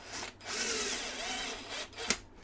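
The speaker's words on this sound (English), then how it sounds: "All right, let's get that drill." Power drill whirring steadily as it drives screws during an air fryer repair, close and loud for about two seconds, followed by a sharp click.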